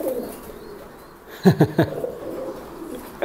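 Pigeons being paired give soft, low, throaty coos in the background, and a short burst of human laughter breaks in partway through.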